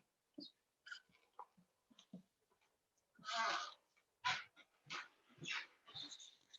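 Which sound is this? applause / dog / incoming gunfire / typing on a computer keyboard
dog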